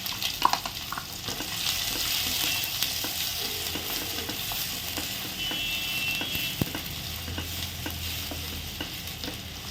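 Onions and fennel seeds frying in hot oil in a pan for prawn thokku, a steady close sizzle with light stirring clicks throughout, no talking.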